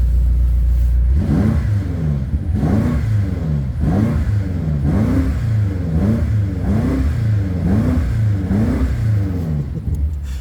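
A 2020 BMW M5 Competition xDrive with a 4.4-litre V8 is blipped repeatedly, giving about eight sharp, evenly spaced rev bursts that rise and fall over a deep rumbling idle, loud and close with no voices.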